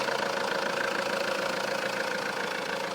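A 2010 Alfa Romeo Giulietta Veloce petrol engine idles in an even, steady hum with a faint rhythmic ticking, heard up close and alone, with no voices over it.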